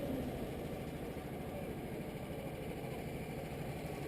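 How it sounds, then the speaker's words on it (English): A racing kart engine idles on the starting grid on a hot day, a steady low, fast-pulsing putter heard from close by and fairly quiet, with no speech. "The engine definitely sounds like it's in better condition than most other karts"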